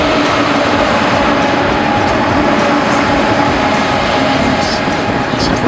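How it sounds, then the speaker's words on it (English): A KTX high-speed train rushes past in Seoul, a loud, steady roar of rail noise and wind that holds without a break for several seconds, close by and alone. "Right now behind me is the KTX train"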